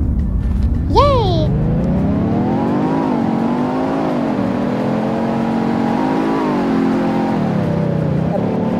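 A car drives in the Roblox game Bloxburg, its engine a steady, fairly loud hum whose pitch rises and falls as it speeds up and slows, with a brief whistling sweep early on.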